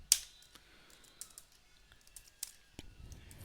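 Isolated keystrokes tap on a computer keyboard while entering a spreadsheet formula, sparse clicks spread out over a quiet room, one sharp press near the start standing out.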